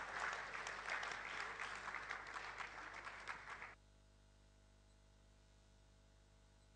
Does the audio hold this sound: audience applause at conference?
yes